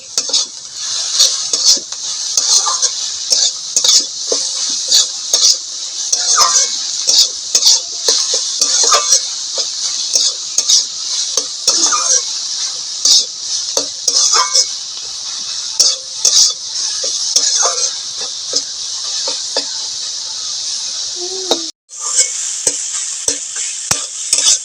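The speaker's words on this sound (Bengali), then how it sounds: "ভালো করে একটু ভাজা ভাজা করে দিতে হবে।" Vegetables with four or five green chillies, salt and turmeric sizzle steadily in a pan while a utensil stirs and scrapes repeatedly, loud and close, with one brief pause near the end and no talk.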